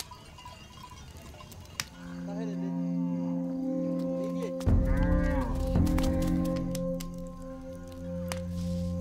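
Cattle near a Maasai village lowing in several long, deep moos, fairly close, over a faint outdoor background.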